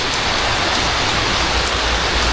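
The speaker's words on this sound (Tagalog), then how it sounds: "hindi tayo makakapunta doon kasi yan ang lakas ng ulan." Downpour of heavy rain, a thick, even roar of drops drumming on surfaces, close and loud throughout the short stretch.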